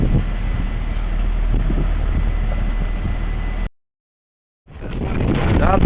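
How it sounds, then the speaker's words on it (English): Strong gusty wind buffets a microphone aboard a fishing boat, a loud rough roar that cuts out abruptly for about a second before returning just as heavily. "The wind is blowing like hell."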